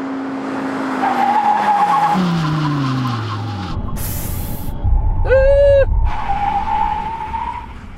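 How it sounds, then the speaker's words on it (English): An Audi RS passes at speed with engine roar, then makes a full emergency stop from 160 km/h, tires squealing and skidding briefly before the noise settles into a steady hum. "Now we can have a brake test from 160 kilometers an hour."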